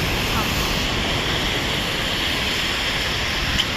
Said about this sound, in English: Guys, look at the waves.